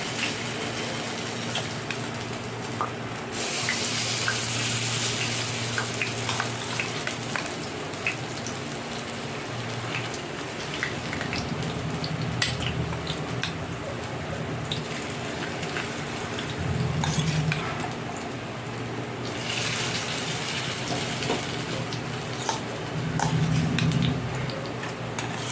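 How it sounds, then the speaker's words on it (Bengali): Fritters of banana stem and gram-flour batter fry in oil over a medium flame, a steady crackling sizzle like light rain that swells at times over about twenty-five seconds. "এভাবে আমি আস্তে আস্তে বড়াগুলো ভাজার জন্য তেলের মধ্যে দিয়ে দেবো।"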